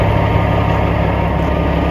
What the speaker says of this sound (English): That's my dad's tractor